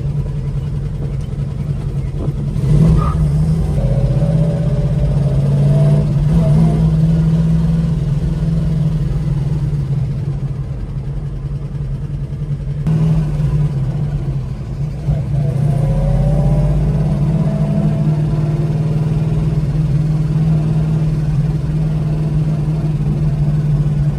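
A car with full power steering idles and then revs as it pulls away, the engine note rising and falling twice with a steady low drone between.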